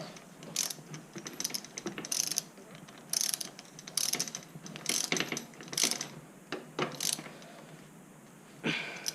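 Ratchet wrench tightening the crank bolts on a BMX during a creaking sealed bottom bracket repair, heard as several bursts of rapid clicking separated by short pauses, fairly close and moderately loud with no talk.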